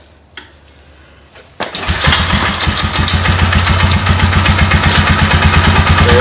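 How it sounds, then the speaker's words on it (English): A Polaris Sportsman ATV fitted with an added recoil pull start is cranked, then fires, with a couple of sharp pulls and clacks before the engine catches and settles into a loud, steady, close putter. "let's see if we can get it started for you"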